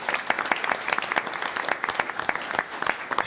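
An audience at a high school board of education meeting claps for a graduating valedictorian, a dense burst of steady applause from a room full of people.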